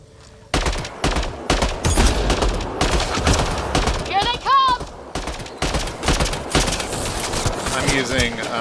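Valkyrie 3 rifle in Mass Effect: Andromeda firing plasma heat-seeking rounds in rapid bursts against Kett enemies, loud and close, with whooshing projectile trails and impacts mixed between volleys.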